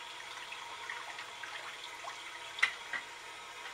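Running tap water splashes steadily over a dirty pizza roller being washed in a sink, a continuous close hiss with a couple of brief louder splashes near the end.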